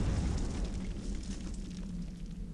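A cannon blasts in the Clive Barker's Undying video game, a dull rumbling explosion that starts loud and decays into a low, rolling roar over a couple of seconds, with no voices.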